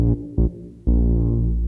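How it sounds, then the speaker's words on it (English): Synth bass plays a line of deep, sustained notes, heard alone: two short stabs followed by a longer held note. "the synth bass sounds like this"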